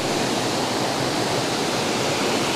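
A waterfall on a river, reached by a hike through bright autumn colour, pours in a loud, steady, broadband roar that fills the scene without a break, close by and with no voices.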